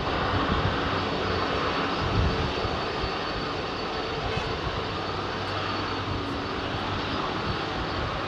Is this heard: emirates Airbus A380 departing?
yes